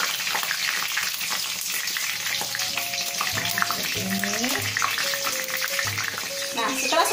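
Eggplant fries in hot oil for pecak terong, a continuous loud sizzle with crackling, interrupted by clinks and scrapes of a utensil being stirred through the pan.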